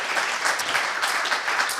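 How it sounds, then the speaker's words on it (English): Steady, dense clapping from a crowd at an academic climate sustainability session fills the whole stretch, a warm, sustained round of applause for speakers with no pauses. "Can we give a very, very warm round of applause, please, to these fantastic speakers?"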